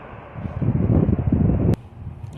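Wind gusts beside railway tracks on a sunny, windy day, a rough rumbling buffet of air against the microphone that swells for about a second and then drops off abruptly, leaving a lighter breeze.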